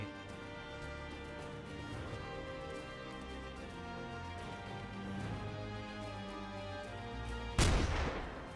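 Gunfire and artillery-like blasts in The Lamplighters League, a steady roar of combat effects with a sudden loud boom near the end.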